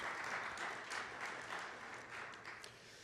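Students at a Bronx borough student-led open forum cheer and applaud, a dense, steady wash of clapping that swells and eases slightly over a few seconds, fairly distant with no clear talk over it.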